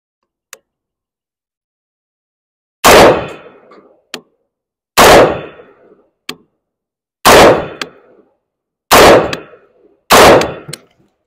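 Five loud, sharp rifle shots from a Colt 6920 fired on iron sights, evenly spaced about two seconds apart, each with a brief echoing decay, with faint clicks from the rifle between shots.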